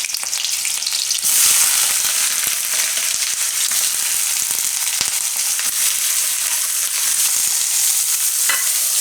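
Green chili and onion hit hot oil in a pan for a Gujarati mushroom curry, giving a loud, steady hiss and crackle with occasional stirring knocks and no voices.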